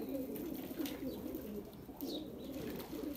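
Pigeons coo steadily in a low, rolling murmur, with several overlapping birds near at hand and a continuous, even backdrop, with no talking.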